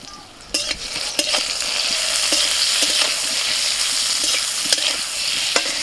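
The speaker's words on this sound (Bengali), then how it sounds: "একটু নুন হলুদ দিয়ে বেগুনটা ভেজে নিচ্ছি।" Eggplant frying in hot oil with salt and turmeric: a steady, close sizzle runs throughout, broken by a few sharp clicks of a spatula or utensil against the pan.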